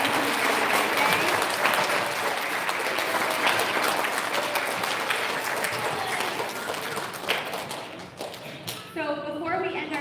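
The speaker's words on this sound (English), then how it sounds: "can we have one more big round of applause for all of our recognitions today?" A large audience at an elementary school recognition ceremony gives a dense, sustained round of applause that tapers slightly toward the end, where a voice begins speaking.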